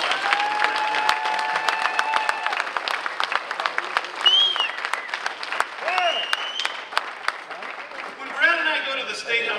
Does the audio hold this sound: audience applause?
yes